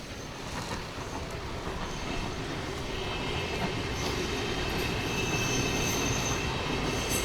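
Trains rolling past in Berlin, a steady loud rumble of railcars with clattering wheels and faint high squeals running throughout, with no talking.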